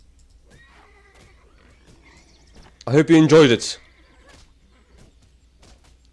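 A horse in the video game Titan Quest gives one loud, close whinny lasting under a second midway through, set against faint in-game ambience and distant sound effects, while a few words are spoken briefly.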